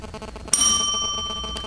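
A hypnotist rings a small bell on a stage: one bright ding that rings on and slowly fades, alone and clear.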